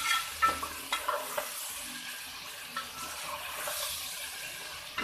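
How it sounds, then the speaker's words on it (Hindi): Tomatoes being stir-fried with browned onions in a pan for chicken biryani, a steady soft sizzle with scraping stirring clicks, close and moderate, no talking. "ये मैंने टमाटर को भून लिए।"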